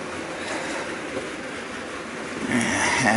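An OO gauge model freight train runs on its track under an H&M Duette controller, a soft steady whirring hum that grows slightly louder and busier toward the end.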